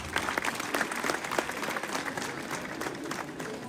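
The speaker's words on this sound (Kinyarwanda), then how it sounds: "Amashyi menshi cyane" Audience applause at a year-end school celebration, a short burst of scattered clapping at moderate distance, fairly soft and ragged, with no talking over it.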